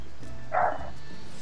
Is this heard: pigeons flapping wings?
no